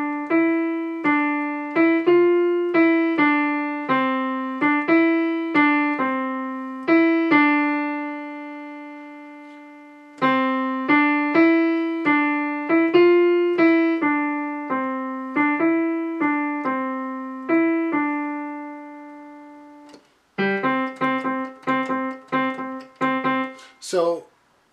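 Keyboard playing the melody of a South African song in a single clear line of plucky, quickly decaying notes. Two repeated phrases are followed by a denser, chord-like passage near the end. There is no talking.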